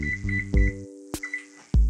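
Oven control panel beeps while the temperature and timer are set, a series of short bright electronic tones in quick clusters between soft button clicks, close and alone.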